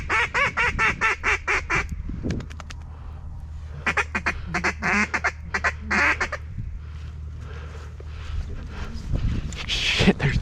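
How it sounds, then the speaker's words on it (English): Mallard ducks quack loudly in rapid repeated bursts nearby during a snowstorm hunt, with a low wind-like rumble underneath and calls continuing in scattered runs. "there's ducks everywhere."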